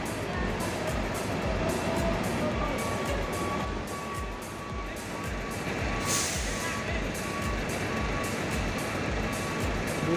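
An intercity bus pulls into the busy Giwangan bus terminal with a rumbling engine, a rhythmic pulsing beep and a brief hiss of air brakes, while people talk nearby.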